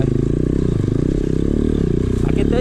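Motorcycles rev loudly at the start of a trail ride, a dense, rattling engine drone with clattering mechanical texture close by while someone talks over it.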